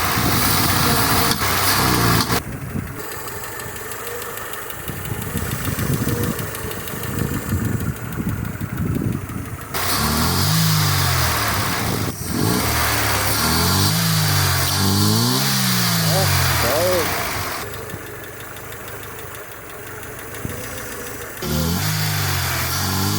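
A Mercedes W124 with KE-Jetronic fuel injection runs steadily, its engine droning close by with a few rises in revs and a slight uneven tone, no talking over it.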